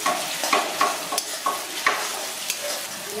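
Three large salted onions fry in a pan while a spatula scrapes and stirs, a soft sizzle punctuated by repeated clattering stir strokes at a close distance.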